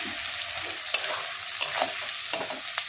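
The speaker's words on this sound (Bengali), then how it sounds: "পেঁয়াজটা এবার আমি লাল লাল করে ভাজবো।" Onions frying in ghee for a chicken and black pepper dish, a steady bright sizzle throughout with a few sharp scrapes and stirring knocks, close and clear, no voices.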